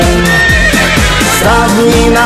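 A horse neighs in a Silesian-style Polish song, its whinny sliding through repeated descending bursts over loud music.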